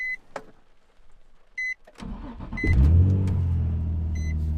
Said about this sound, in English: We're gonna go ahead and start the car, not with the key fob, but with the key.